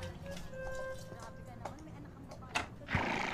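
A horse whinnies and snorts amid a tense scene, with hoof clatter and thumps; agitated voices shout over and around the animal.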